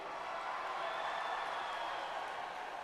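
A large crowd cheers and roars steadily at the FIRST in Michigan State Championship robotics competition in the Aptiv Division arena, a dense, continuous wall of voices and clapping throughout.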